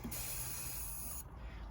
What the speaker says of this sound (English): I will spray some deep creep on these